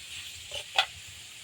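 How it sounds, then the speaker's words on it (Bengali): Bitter gourd with turmeric cooking in a pan, one short scrape of stirring rising over a quiet, low sizzle. "এখন এর মধ্যে এই করলাটা দিয়ে দেব হলুদটা দেব"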